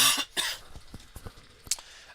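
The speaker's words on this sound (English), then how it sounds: "Sorry about the coughing." A few harsh, breathy coughs: a hard pair at the start, a sharp single cough later, with quiet breathing and small clicks between them.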